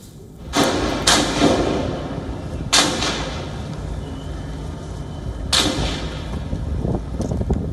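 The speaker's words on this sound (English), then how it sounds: "This horrific sound of gunshots are coming from inside the Karachi Stock Exchange." Gunshots inside the Karachi Stock Exchange during an armed attack, three or four sharp, loud reports spaced a few seconds apart, echoing over a rumbling background.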